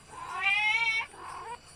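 A cat nextbot in a video game meows twice, a long rising-falling meow followed by a shorter second one, loud and close with no talk.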